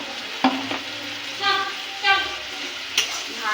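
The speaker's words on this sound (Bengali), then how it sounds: "ভালো করে কষাবো।" Spices with red chili powder are sautéed in a pan, with a low steady sizzle broken by a few scraping stirs and brief clinks, close by, and no talk.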